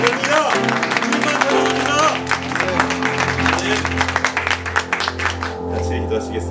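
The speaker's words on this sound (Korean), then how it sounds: "주님께 감사함의 박수 합시다." A Korean church congregation at a Sunday service claps in thanks, loud continuous applause mixed with a voice and musical tones that carry on underneath.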